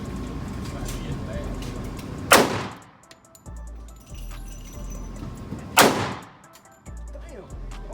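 Two sharp, loud gunshots ring out a few seconds apart at an outdoor shooting range, each followed by a short echo, with muffled voices and handling noise between them.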